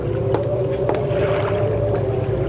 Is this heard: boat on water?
yes